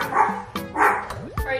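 A dog barks a few times up close amid talk and chatter, the short yips rising and falling in pitch between voices.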